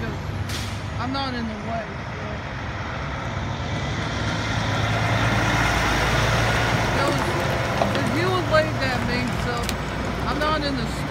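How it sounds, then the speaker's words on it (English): A truck idles nearby with a hiss of air brakes, its steady engine rumble running throughout while a person talks over it outdoors. "there's a truck behind"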